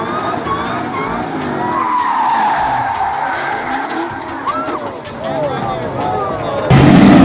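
A race car on track skids as its rear tyres lose grip, giving loud, sustained tyre squeal with sweeping, wavering pitch over engine roar. The sound stays continuous and close throughout, rising in loudness right at the end.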